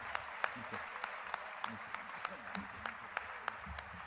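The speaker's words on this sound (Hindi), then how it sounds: "हाँ, आपकी तालियां अनवरत जारी रहना चाहिए।" An audience at a religious discourse gathering keeps up rhythmic applause, regular accented claps over a softer crowd patter, with voices talking underneath.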